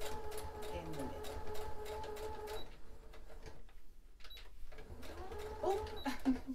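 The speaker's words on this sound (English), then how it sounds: "that is how you do a stay stitch and why you do a stay stitch" A sewing machine runs a stay stitch along a dress pattern piece, a steady faint whirring hum that stops briefly midway and resumes, with quiet clicks near the end.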